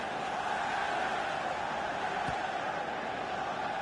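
A constant roar of stadium crowd ambience fills a FIFA 17 football match featuring Portsmouth, even and unbroken apart from one brief low thump.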